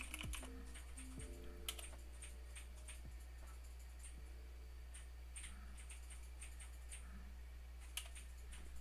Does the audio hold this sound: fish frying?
no